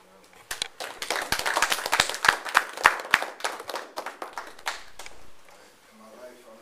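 An audience claps together in a room, a dense burst of hand claps that swells over several seconds, then thins and fades out near the end.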